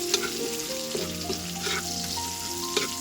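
Garlic frying in oil for masoor dal with jute leaves, a steady close sizzle under a faint musical tone, with no talking.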